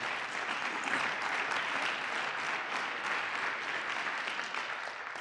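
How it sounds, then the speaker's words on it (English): A roomful of people applauding at a community meeting, a continuous wash of clapping that stays level for over five seconds, heard at a moderate distance without voices. "Let's give Ben a round of applause."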